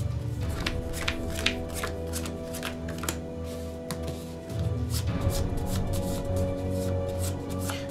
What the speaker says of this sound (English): We're gonna shuffle these cards up.